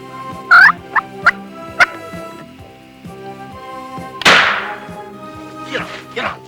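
An Eastern wild turkey tom, a 20-pound-plus bird in hunting woods, gobbles in a few short calls and then one loud, rattling burst, all over a steady rhythmic ticking background.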